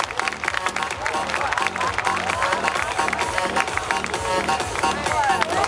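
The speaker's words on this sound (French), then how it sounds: "on tape des mains, on l'applaudit pour l'envoyer là-bas" Spectators at an urban motorbike trial event in Cahors clap and cheer a rider, loud dense applause and crowd noise running throughout with voices and an announcer speaking over it.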